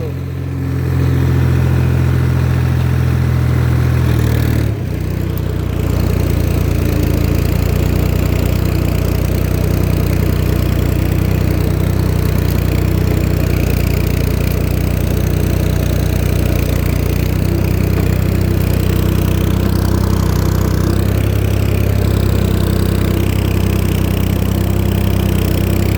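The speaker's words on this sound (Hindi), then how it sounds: "अब जोर लग रहा है ट्रैक्टर का।" A farm tractor engine labours under load in a field, a loud steady mid-pitched drone with a strong low rumble that holds for the whole stretch, shifting slightly in tone partway through as the throttle changes.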